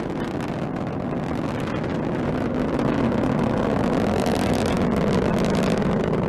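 Rocket engines roar in a steady, dense, distant rumble during the Parker Solar Probe launch, with the strap-on boosters at full thrust. The roar holds evenly throughout with no voices.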